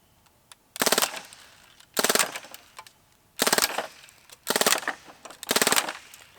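A Crosman DPMS SBR full-auto BB gun fires five short, sharp bursts spaced about a second apart, each a loud rapid rattle of shots with quiet gaps between them.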